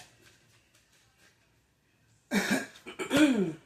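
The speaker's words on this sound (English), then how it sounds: "Let me clear my throat." After a quiet stretch, a person clears their throat with a couple of rough, gravelly bursts, close and fairly loud.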